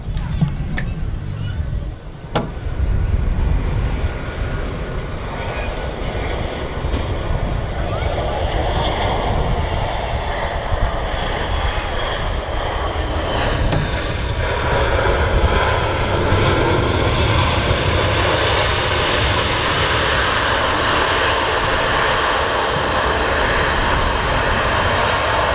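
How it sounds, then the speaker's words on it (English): A Ryanair airliner lands at Manchester Airport, its loud sustained engine roar building and holding steady close by, with a person talking over it and faint crowd murmur. "Here comes a Ryanair coming in"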